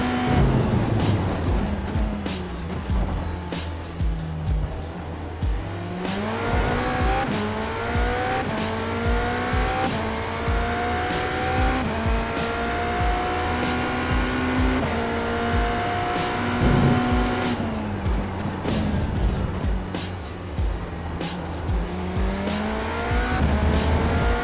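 IMSA GTE race car lapping the Red Bull Ring in the iRacing sim, engine tone climbing and falling steadily through upshifts and downshifts, loud and continuous throughout with no talking.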